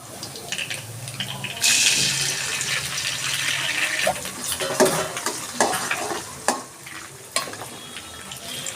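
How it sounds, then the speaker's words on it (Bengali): A duck egg dropped into a pan of frying potatoes with turmeric, a sudden loud sizzle swelling then settling into steady crackle, with stirring scrapes and clatters toward the end. "আমি মাঝখানে একটু ফাঁকা করে এর মধ্যে দিয়ে দিচ্ছি একটা ডিম হাঁসের ডিম"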